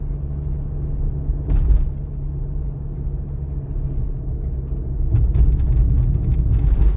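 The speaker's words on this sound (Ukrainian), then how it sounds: "Зараз у мене третя швидкість 45 км на годину." A car cruises steadily in third gear at about 45 km/h on a driving exam route, with a low continuous road rumble and engine drone. A short burst of noise comes near the start and a louder rougher stretch near the end.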